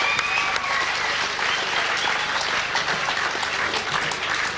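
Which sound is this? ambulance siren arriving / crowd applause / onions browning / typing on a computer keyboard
crowd applause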